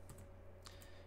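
A few quick, faint keystrokes on a computer keyboard over a low steady electrical hum, close and quiet.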